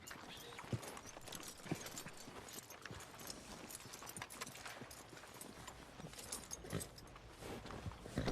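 Steady hoofbeats of a horse walking in the video game Red Dead Redemption 2, a rhythmic clip-clop over a dense, noisy background.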